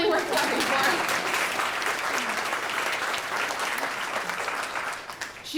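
Applause from an audience at a family's gift announcement for children's health programs, steady and crowded, fading slightly toward the end.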